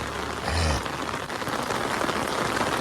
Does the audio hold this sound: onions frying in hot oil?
no